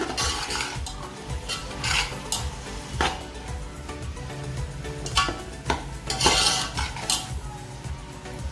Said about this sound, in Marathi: दोन चमचे चिल्ली सॉस एक चमचा विनेगर आता आपण हे छान मिक्स करून घेऊया